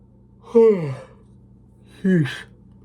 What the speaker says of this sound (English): Did not mean to yawn on you.